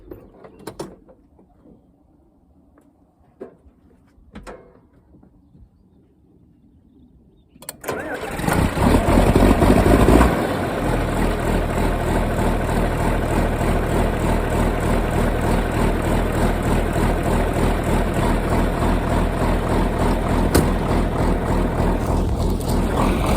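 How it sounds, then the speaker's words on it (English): A John Deere tractor engine turns over and catches after a few quiet seconds of faint knocks, then settles into a loud, steady close idle as it warms up before baling pasture, with no talk. "Let that tractor warm up for a second."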